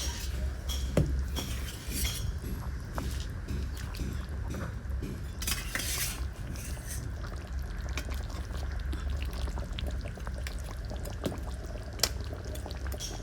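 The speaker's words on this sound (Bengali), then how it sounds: "তো বন্ধুরা দেবো আমি অল্প একটু জল।" A small splash of water poured into a pan of fish curry, a steady low pour with faint clinks of utensils, close by and without talk.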